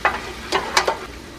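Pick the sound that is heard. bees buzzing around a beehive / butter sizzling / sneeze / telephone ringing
butter sizzling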